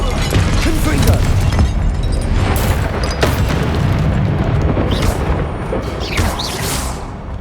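Spell explosions from Confringo cast in Hogwarts Legacy, a rumbling loud booming barrage with repeated bursts and pops over dense continuous game noise, no voices.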